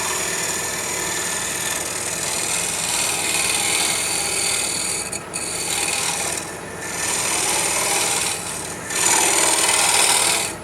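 An old Sears half-round scraper smooths the inside of a turned wooden bowl, producing a loud, continuous rasping scrape that briefly dips in several short pauses.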